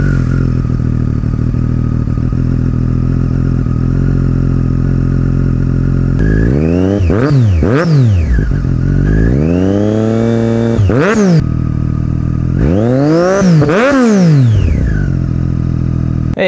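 A Triumph Daytona 675R sport motorcycle idles steadily close by, then its engine is revved hard in several sharp rising and falling bursts, with a longer held rev in the middle, all with no voices.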